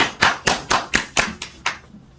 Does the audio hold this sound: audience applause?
yes